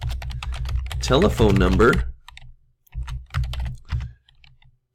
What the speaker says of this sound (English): I'm going to type in name